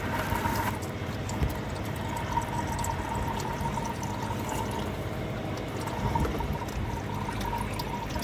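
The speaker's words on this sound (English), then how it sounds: "It comes down to pretty much a drip." Motor oil draining from a Ford F250 6.2 engine into a bucket, a steady trickling pour with scattered drips over light background clatter, close and continuous.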